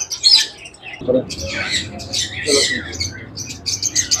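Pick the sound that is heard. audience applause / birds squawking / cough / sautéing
birds squawking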